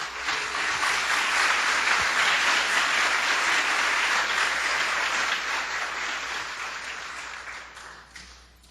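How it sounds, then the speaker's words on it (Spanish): A church congregation breaks into sustained, dense applause that fills the room, loud and even for several seconds before gradually thinning and fading out. "Denle un aplauso a Jesús."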